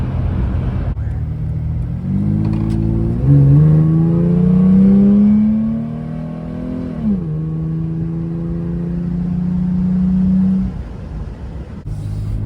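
A steady engine drone inside a third-generation Toyota 4Runner cruising on the highway at 80, its pitch rising gradually then leveling off into an even hum, with road rumble underneath.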